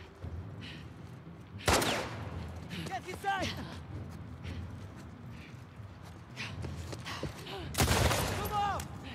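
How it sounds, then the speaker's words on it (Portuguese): Gunfire in The Last of Us Part II on PS4: a few loud bursts of shots and scattered clicks and metallic rings, with a person talking over much of it. "Maria, cada tiro que eu tomo no meio da minha fuça."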